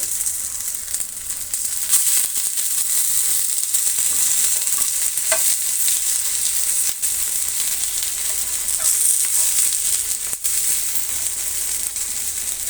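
Masala-coated rohu fish fries in a pan with a loud, steady hissing sizzle throughout, punctuated by occasional scrapes and taps as the pieces are turned, close up with no voices.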